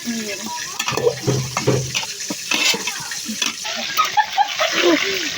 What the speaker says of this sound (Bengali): কড়াই ধোয়া ভালো করে নাড়াচাড়া দিয়া দাও